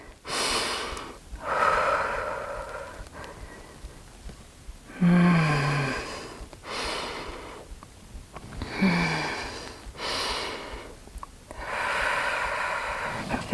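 Heavy breathing during a rest interval of a second-trimester upper-body workout, several loud drawn-out breaths and snort-like exhales in repeated bursts with short pauses between, close to the listener.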